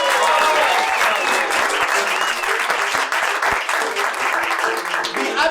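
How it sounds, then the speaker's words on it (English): Sustained, loud applause from a comedy festival audience at a live puppet show, a dense continuous clatter of many hands filling the room. "Please give another round of applause for the delightful Matthew Hadgrove."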